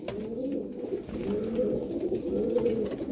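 Black-mouthed Sialkoti pigeons coo nearby in low, rolling, repeated phrases, joined by a couple of faint high chirps, with no talking.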